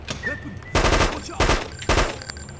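Gunfire in the video game Hitman: Codename 47: three loud, close bursts of rapid automatic shots, each lasting about half a second, separated by short pauses over a low game background.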